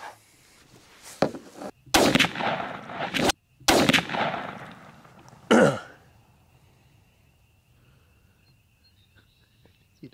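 Stevens 301 turkey shotgun firing Carlson's TSS shot through a .555 choke, several sharp loud blasts in quick succession with hushed voices between them, then quiet outdoor ambience.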